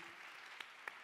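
Audience applause at a biomimicry and materials expo, a steady faint patter of many hands clapping throughout, with a couple of sharper individual claps standing out.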